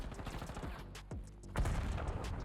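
Sniper rifle gunfire in the video game Black Ops 6: a few loud, sharp shots with booming reports and tails, close up in a short burst.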